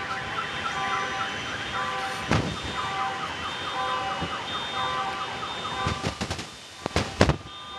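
Several car alarms wail together in a steady, overlapping warble set off by nearby fireworks, with sharp booms and crackles bursting through around the middle and near the end.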